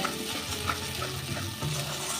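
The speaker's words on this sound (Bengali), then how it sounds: "সেই ভাজা মশলাটা মশলাটা একটু কষে নেব" Steady, close sizzling and stirring of a fried ginger and green pea spice paste in a pan, a continuous frying hiss with faint scraping throughout, no voices.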